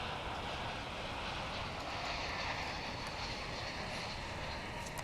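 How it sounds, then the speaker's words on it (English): Air France Boeing Dreamliner airliner at DFW International Airport, a steady distant jet engine roar with a broad hissing whine that stays constant throughout. "Dreamliner on its way back to Charles de Gaulle Airport in"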